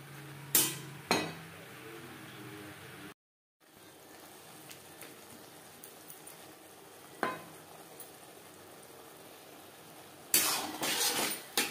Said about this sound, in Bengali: পেঁয়াজ পাতা মশলা ও পেঁয়াজের ডাঁটার সাথে বেশ ভালো করে মিক্স করে দেবো।